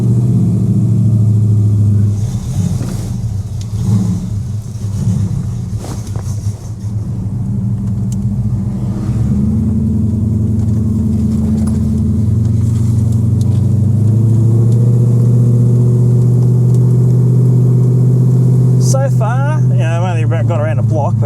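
A Ford 351 Cleveland V8 with a Holley carburetor runs loud and close, a deep rumbling idle with uneven surges and a rise in revs, and voices are heard over it.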